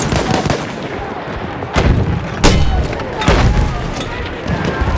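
Heavy gunfire rattles through a Battlefield 1 match, with dense overlapping shots and several loud booming blasts near the middle, continuous and close throughout.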